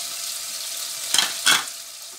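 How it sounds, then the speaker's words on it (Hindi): Spices, salt and chillies frying for mooli palak, a soft continuous sizzle broken by two brief louder bursts of stirring or spattering, close and with no talking. "अब इनको तकरीबन 1 मिनट भूनेंगे"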